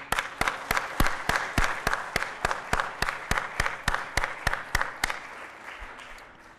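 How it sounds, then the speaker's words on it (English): Rhythmic applause with strong, evenly spaced claps runs for several seconds at a NASDAQ market site closing bell celebration, then fades into softer clapping toward the end. "kick off the celebration this afternoon with a warm round of applause"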